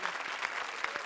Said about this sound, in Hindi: जोरदार तालियां हमारी सारी जोड़ियों के लिए।